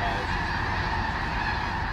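Geese honking at a wetland impoundment, a dense continuous chorus of many birds calling at once, loud and steady with no pauses.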